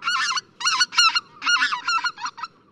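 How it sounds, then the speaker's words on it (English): Greater White-fronted Goose, the Laughing Goose, giving a series of loud, close, high laughing honks in quick bursts over quiet background. "The lilting voice of this goose inspired a nickname,"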